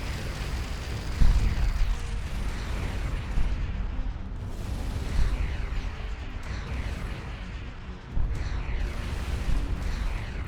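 Missiles exploding during a space battle in the game Starcom Nexus, a series of rumbling booms and bursts over a continuous mechanical drone, fairly loud and with no speech.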